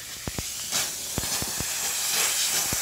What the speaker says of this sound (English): You notice water coming out, and that water will convert to dry vapor steam.